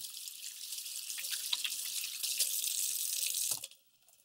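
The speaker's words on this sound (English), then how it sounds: "be sure to wash your hands" Water runs from a tap into a sink for hand washing, a steady close hiss that carries on for a few seconds before the flow is shut off abruptly near the end.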